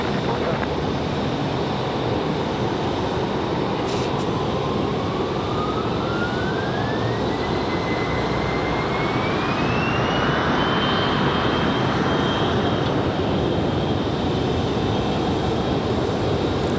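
United airliner taking off from runway 5 left at Raleigh-Durham International, a steady loud broadband engine roar throughout with a rising whine, radio talk over it.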